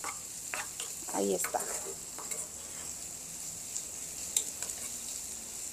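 Onion frying with oregano in a pan, a steady close sizzle with scraping stirring strokes, while a voice briefly speaks.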